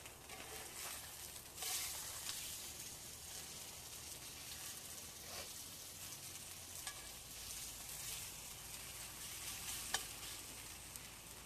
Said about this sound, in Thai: เสียงเนื้อลงกระทะชัดกระตุ้นต่อมน้ำลายไหลเลยครับ